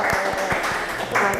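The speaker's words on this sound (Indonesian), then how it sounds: "Tepuk tangan dulu dong." Audience at a hospital talk show event in Tangerang Selatan applauds in a short burst of clapping, with a voice speaking over it.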